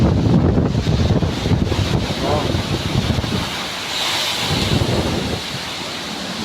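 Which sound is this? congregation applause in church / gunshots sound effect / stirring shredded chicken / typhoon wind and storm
typhoon wind and storm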